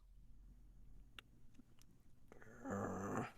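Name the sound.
game master imitating a creature's growl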